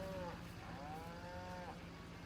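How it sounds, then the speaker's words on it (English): Cows moo in Farming Simulator 22 on a Saskatchewan farm in early spring, two drawn-out lowing calls heard moderately close over a low, steady background rumble. "We got cows."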